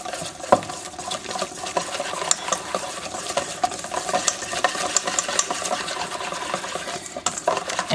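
A wire whisk stirs melted butter and natural unsweetened cocoa in a bowl, giving a steady scraping, clinking rhythm with small taps against the sides, close and moderately loud with no talking.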